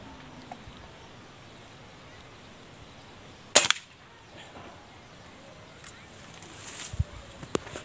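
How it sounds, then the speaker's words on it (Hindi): An air rifle with a scope is fired once while being zeroed, giving a crisp, snappy crack that stands out against quiet outdoor background noise. Faint small knocks follow later. "तीसरा शार्ट हमने किया है"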